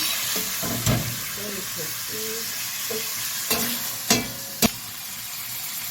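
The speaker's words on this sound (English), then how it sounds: "saute the meat in a high fire, and make sure it does not, the margarine does not brown" Beef frying in margarine over high heat for stroganoff, a steady soft sizzle with occasional sharp clinks and stirring scrapes while a person speaks briefly.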